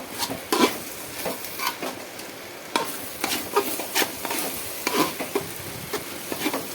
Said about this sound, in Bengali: দেখো এইভাবে কিন্তু ভালো করে নাড়াচাড়া করতে হবে, নাহলে কিন্তু তলায় ধরে যেতে পারে।